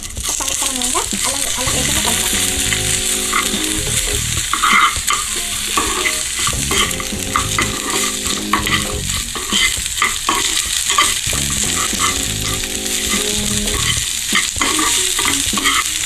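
Dried fish fries in butter, Telangana style, as a spoon stirs it in the pan, giving a close, lively sizzle with repeated scraping strokes; a voice talks intermittently over the cooking.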